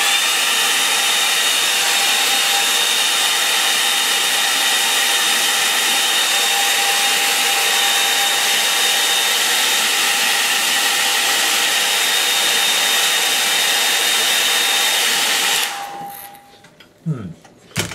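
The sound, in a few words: hair dryer drying a watercolour painting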